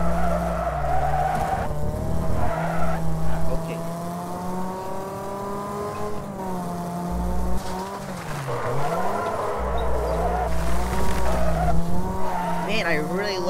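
Race cars in the Wreckfest video game roar with engine drone and rising revs while tires screech and skid through dirt corners, loud and continuous, with a player talking over the racing.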